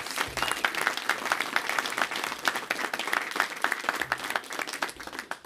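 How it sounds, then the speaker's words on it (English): Warm round of applause from an audience, steady clapping sustained throughout with a few louder bursts. "a round of applause"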